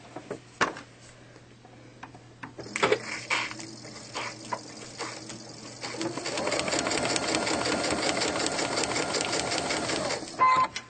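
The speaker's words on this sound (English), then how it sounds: "I'm going to sew 2 or 3 stitches in." A sewing machine stitches a heart quilt block. It starts with a few slow, separate ticking stitches, then speeds into a steady, continuous whir before stopping near the end. The machine is close and nothing else is heard.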